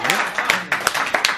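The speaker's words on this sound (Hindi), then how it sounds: "जोरदार तालियां बजा करेंगे।" Audience applause for a comic poet at a Hindi hasya kavi sammelan, a short burst of dense clapping with sharp hand claps standing out over a murmuring crowd.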